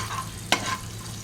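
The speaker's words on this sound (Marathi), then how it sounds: "आता हे मस्त हलवून घेऊया आपण।" A spoon scrapes once through vegetables and garlic paste frying in a pan for veg pulao, a single brief stroke over a soft steady sizzle.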